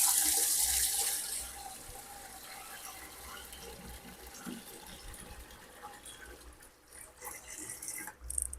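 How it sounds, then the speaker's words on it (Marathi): Bore well water pours into a home fish tank to fill it, a steady gushing stream that starts loud and settles into a softer, continuous trickle and splash, close by with no talk. "अजून पूर्ण पाणी एवढं भरायला लागते सगळं"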